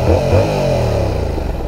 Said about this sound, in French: Alors je vous fais écouter le bruit de l'échappement.